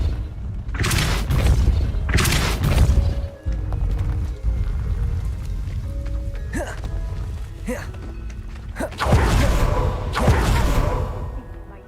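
Spells go off in Hogwarts Legacy, including Depulso, heard as several loud percussive thumps and whooshing bursts at a steady pace over game ambience and faint hoof-like steps.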